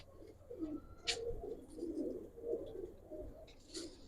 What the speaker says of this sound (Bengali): আসলে এই কবুতরগুলো খুব ভালো